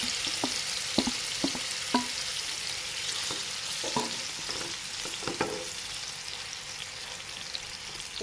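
Paneer pieces fry in oil in a pan with a steady bright sizzle, broken by several sharp clinks and taps of a spoon or spatula stirring; no one speaks.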